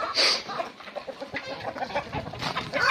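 Hens and roosters cluck steadily in a backyard chicken coop, a busy overlapping chorus of short calls close by, rising a little louder at the start and end, with no talking.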